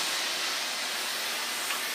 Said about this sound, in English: I'm going to give this lining a little steam.